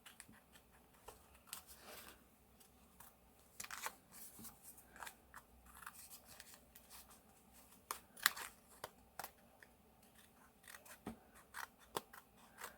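Scissors snip through paper to trim corners on an art journal page, a quiet series of short crisp cuts spread irregularly over the stretch, close and alone.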